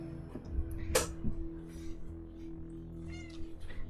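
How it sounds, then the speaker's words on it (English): A pet cat named Josie gives a few short meows close by in an otherwise quiet room, with faint background hum and no talking. "My cat needs me."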